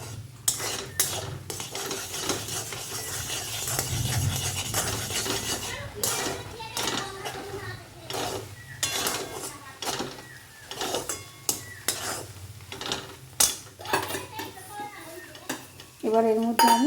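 A spoon scrapes and clatters against a pot while semolina is stirred into water, producing repeated rhythmic metallic knocks and scrapes close up, with a voice speaking briefly near the end.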